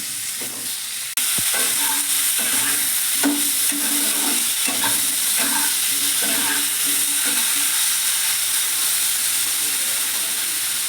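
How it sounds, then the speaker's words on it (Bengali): Potatoes with salt fry in white oil with nigella seeds, giving a loud, continuous close sizzle broken by repeated scraping stirs of the spatula. "আলুটাকে আমি একটু নুন দিয়ে ভেজে নেবো"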